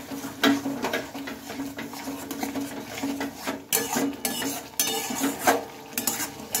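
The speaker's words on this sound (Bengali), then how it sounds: "আর জল দিয়ে আবারও মশলাটা আমি ভালোভাবে কষিয়ে নেব।" Spice masala with a little water being stir-fried in a pan, a spoon scraping and clinking against the metal in irregular strokes over a soft sizzle, close and moderately quiet.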